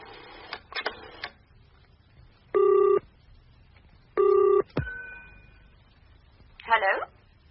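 A telephone being dialed and ringing: clicks of a rotary-style dial, then two loud, even electronic rings separated by a pause, followed by a clunk and rustle as the receiver is handled.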